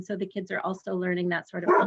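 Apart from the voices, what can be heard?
dog barking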